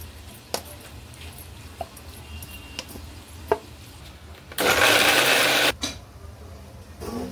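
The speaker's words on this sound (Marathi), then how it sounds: "आता आपण हे मिक्सरला लावून घेऊया." A kitchen mixer grinder blending cooled butter chicken masala, a steady loud whirring burst of about a second in the middle, with a few clinks and taps before and after.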